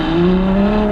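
A Ferrari F12berlinetta engine roaring loudly and steadily at full throttle on a mountain pass, its pitch holding high and strained throughout, close by.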